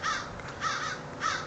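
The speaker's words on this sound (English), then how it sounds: "even the crows agree with me" Crows caw three times in slow succession, moderately distant and fairly faint, each harsh call spaced about half a second apart, with no speech.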